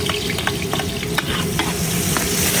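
Garlic and freshly picked vegetables stir-fried in a pan, a steady loud sizzle with repeated scraping stirs of a spatula at irregular intervals, no talking.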